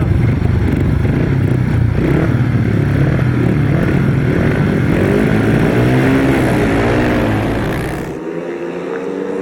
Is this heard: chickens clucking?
no